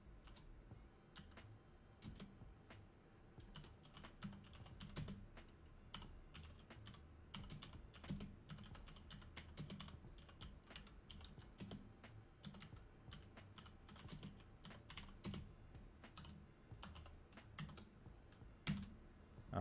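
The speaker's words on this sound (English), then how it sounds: "So give me 1 second while I type" Typing on a computer keyboard during a live stream, a steady run of quick, quiet key clicks with irregular rhythm, heard alone without talk.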